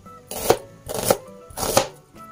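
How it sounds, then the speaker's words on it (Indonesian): Onions being ground in a kitchen grinder, three short, sharp rasping bursts in quick succession, close and fairly loud, with no voices. "Kita kisar bawang ni"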